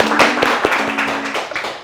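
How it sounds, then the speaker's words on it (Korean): A small group at a blind-date show claps briefly, with a handful of close, sharp claps and taps that fade quickly. "박수 한번."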